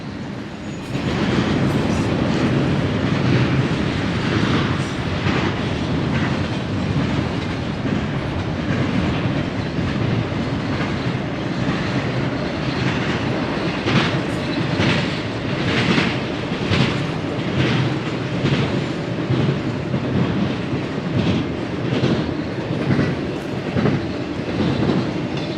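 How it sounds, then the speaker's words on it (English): A train rolls past near Ludlow, California on old Route 66, a loud continuous rumble with rhythmic clickety-clack of wheels over rail joints, sustained throughout with no voices. "Hope you guys don't mind that train noise in the background."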